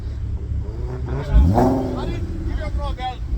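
An Audi TT engine revs up hard once with a rising roar, then settles back to a rough idle; someone talks over the engine throughout, close by.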